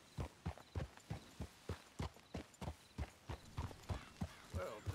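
Horse hooves clip-clop at a steady walking rhythm in the Western video game Red Dead Redemption 2, with regular close thuds and no talk over them.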